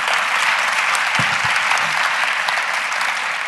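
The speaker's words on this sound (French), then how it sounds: "on t'applaudit" Audience applause at a conference in Lyon, a loud close wash of many hands clapping continuously, with a brief low voice murmur underneath partway through.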